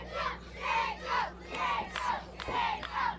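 Crowd at an indie wrestling show chanting in a rhythmic, rallying cadence, loud repeated bursts of voices rising and falling about twice a second behind a wrestler caught in a hold.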